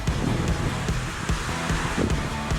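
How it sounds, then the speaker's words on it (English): Strong wind gusts across an outdoor apiary, buffeting the microphone with low rumbling bursts and a steady rushing noise, loud and close. "it's been real windy all day"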